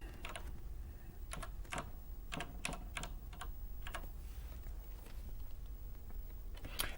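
Typing on a Quantel Editbox video editing system keyboard: irregular, crisp key clicks spread across several seconds over a steady background hum, fairly close and quiet.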